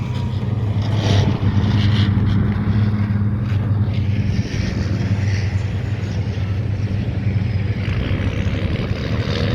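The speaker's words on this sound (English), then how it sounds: "the thicker gun that's going past the moment, that's the original Scorpion" An original Scorpion light tank drives past at a military vehicle show, its steady loud engine drone and low rumble held throughout, with wind buffeting the microphone.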